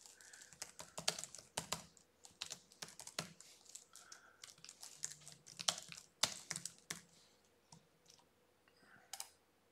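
Typing on a computer keyboard while entering description text for a map location: irregular bursts of crisp key clicks, close and fairly quiet, with short pauses between runs and no talking.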